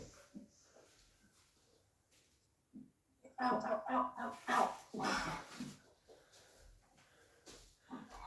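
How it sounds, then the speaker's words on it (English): A puppy barks and whimpers in a noisy burst partway through, with faint talking before and after it. "That's not me making that noise, guys. It's a puppy attack,"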